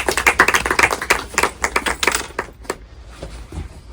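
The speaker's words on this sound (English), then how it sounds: "Let us have a round of applause for Professor Armitage." Scattered applause for a professor at an academic conversation on environmental stewardship, individual crisp claps from a small audience, dense at first then thinning out to a few last claps.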